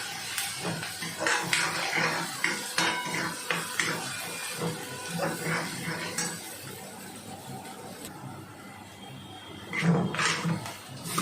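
Onion sautés in oil in a pan, stirred with a spoon that clinks and scrapes against the metal over a soft sizzle, in irregular strokes at close range.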